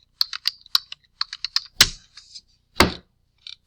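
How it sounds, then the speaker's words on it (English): Quick bursts of typing on a computer keyboard: crisp, close key taps in uneven runs, with a couple of heavier strokes, likely the space bar, and short pauses between. "you're just going to type blank in the rest of these"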